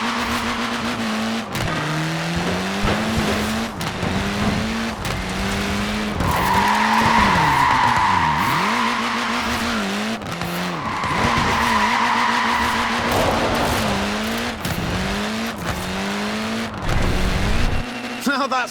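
Tires squeal and skid on a short-wheelbase, front-wheel-drive Mini in the Forza Horizon 4 racing game, with long screeching slides over a buzzing, revving engine and a voice talking throughout.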